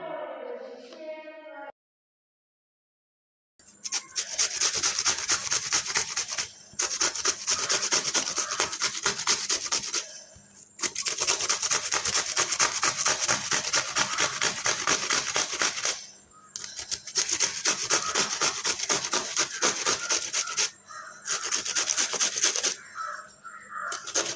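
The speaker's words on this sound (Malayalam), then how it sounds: "ഈ പകുതി നമുക്കൊന്ന് ഗ്രേറ്റ് ചെയ്തെടുക്കാം" Cucumber is rubbed against a kitchen grater in several long, close bouts of rapid scraping strokes, separated by short pauses.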